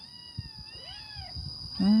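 A cat meows twice, a rising-falling cry then a louder one at the end, over a faint electronic hum.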